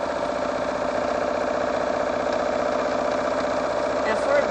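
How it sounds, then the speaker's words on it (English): A sewing machine runs fast on quilting strips with needle-down set, a steady rapid mechanical hum at moderate volume throughout. "I'm also going to make it sew faster."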